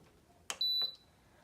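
An Instant Pot beeps when its saute button is pressed: a soft button click, then one clear high electronic beep lasting a fraction of a second, close and quiet, with no talking.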